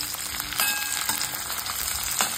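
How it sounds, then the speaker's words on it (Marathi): Cauliflower florets sizzle and fry in hot oil in a pan while a large slotted spoon stirs them. The crackling hiss stays steady and close, with a few louder bursts and no voices. "त्याच्यात आधी आपण हा फ्लॉवर टाकून परतून घेऊया।"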